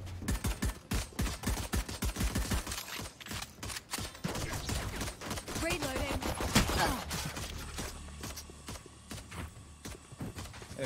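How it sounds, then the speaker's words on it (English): Rapid bursts of Valorant gunfire on the map Bind crackle in dense clusters, with sharp shots and clattering reload sounds fading into quieter ambience toward the end. "A lot of gunshots."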